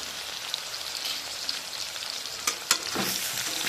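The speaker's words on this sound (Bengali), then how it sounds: "গ্যাসটা আমি হাই ফ্লেমে দিয়ে আলুগুলো ভেজে তুলে নেব" Potatoes fry in hot oil over a high gas flame, giving a steady, close sizzle with a few sharper crackles and spatters toward the end.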